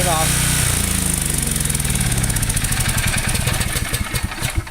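A Generac 7550EXL portable generator fitted with a tri-fuel conversion kit runs loudly up close, then winds down after shutoff, its steady drone breaking into slowing, uneven chugs; a voice is faintly present beneath.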